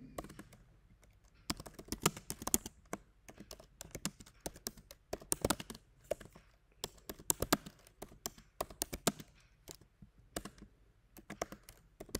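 Someone types code on a computer keyboard in quick, uneven bursts of close key clicks with short pauses between, alone without talk.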